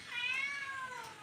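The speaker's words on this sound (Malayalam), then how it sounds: "പൂച്ചക്കുഞ്ഞ്." A kitten gives a single clear, drawn-out meow, close and fairly loud, with a rising then falling tone lasting about a second.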